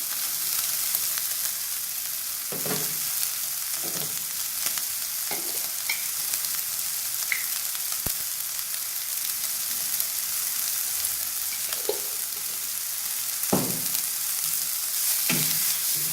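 Chicken pieces fry golden in hot oil with chillies added for a bread pizza topping, giving a loud, continuous sizzle marked by occasional stirring scrapes and light clinks.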